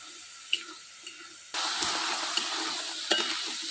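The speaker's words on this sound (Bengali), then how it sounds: "এবার আস্তে আস্তে জাল দেবো আর মশলাটা কষাবো।" Spices with turmeric frying in a pan and stirred over a gentle flame, quiet at first with a few light clinks, then a sudden loud sizzle and scraping stir that keeps going to the end.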